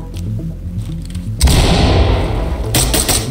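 A flashbang grenade goes off in the tactical shooter Ready or Not: quiet low rumble, then a sudden loud burst that rings on, with a second sharp crack near the end.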